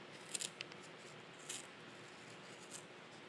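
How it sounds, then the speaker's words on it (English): Scissors snip through yarn wound on a pom-pom maker with a few quick, close cuts early on and another cut later, over a quiet room hum. "the pom-pom maker is made with that groove right there that you run your scissors along"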